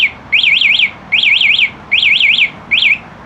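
FORTE SK150-B5Y motorcycle alarm set off by its remote, sounding four loud bursts of rapid warbling electronic chirps, each burst about half a second long with short pauses between, clear and close.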